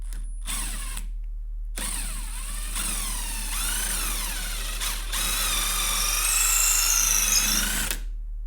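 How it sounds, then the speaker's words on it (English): Impact driver boring a hole through a UJK drill guide, a portable drill press jig, with a steady whining motor that starts and stops several times, then runs longest and loudest near the end. "We might as well just drill a hole here."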